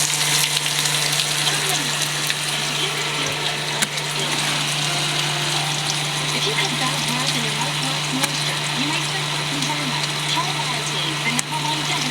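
Peanut oil heats in a cast iron skillet, giving a soft, steady sizzle and crackle that runs unbroken under a low background hum.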